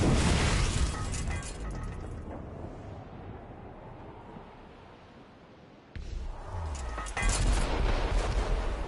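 Ship cannon fire in the video game Assassin's Creed Rogue: booming blasts at the start and again near the end, with rumbling decay and broadband crashes between, loud and close, without talk.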